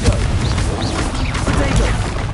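A Confringo blasting spell explodes in the Hogwarts Legacy video game: a loud, continuous barrage of booming, crackling blasts packed into dense combat noise.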